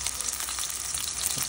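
Onions fry in a pan with a dense, steady hiss of sizzling oil, close and constant throughout, and no voices over it.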